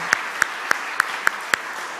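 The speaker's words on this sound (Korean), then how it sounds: "박수 한번 합시다" At a church seminar for officers and teachers, six sharp claps land in an even, steady rhythm about a third of a second apart over a faint background murmur.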